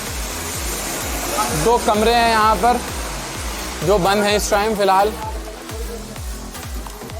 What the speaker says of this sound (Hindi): ये देखिए बारिश, वो पीछे बह रही है एक नदी